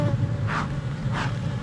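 Steady insect buzzing of honeybees around a production hive fills the clip, with a couple of louder passes as bees fly close by, no voices.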